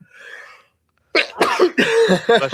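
A single explosive sneeze or cough burst at the start, followed by a short silence and then someone talking right after it.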